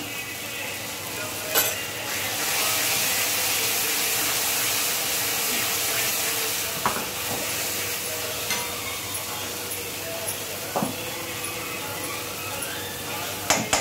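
Onion masala sizzling in hot oil with turmeric and coriander powder added, a loud continuous frying hiss with scattered scraping stir strokes and clinks of a spoon against the pan.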